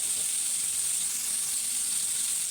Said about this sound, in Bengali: প্রথমে কড়াইতে তেল গরম করে শিং মাছগুলোকে লবণ মরিচ দিয়ে মাখিয়ে তেলে ভেজে নিব।